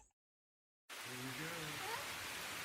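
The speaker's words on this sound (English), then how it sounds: "We're going to go out there in the rain." Rain falls outside. After a moment of silence, a steady, broad hiss of rain starts abruptly and continues, with a voice talking briefly over it.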